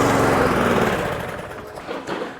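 A rough-running lawn mower engine surges unevenly, loud and close, its drone slowly sagging in strength across the short stretch with no voices.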